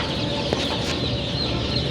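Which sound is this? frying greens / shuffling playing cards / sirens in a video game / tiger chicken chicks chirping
tiger chicken chicks chirping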